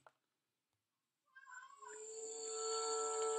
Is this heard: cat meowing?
yes